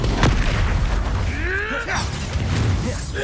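Expulso blasting spell in Hogwarts Legacy, a deep booming burst with a crackling magical whoosh, followed by a rising swirl of spell effects and scattered combat noise at steady volume.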